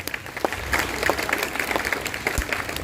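A church congregation at a feast-day Holy Mass applauds in a dense, steady round of clapping from many hands, filling the hall continuously and loudly.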